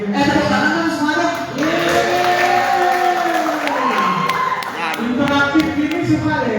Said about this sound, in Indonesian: Tepuk tangan dong semua dong